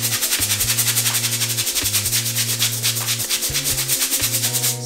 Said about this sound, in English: he's scrubbing the shit out them shoes.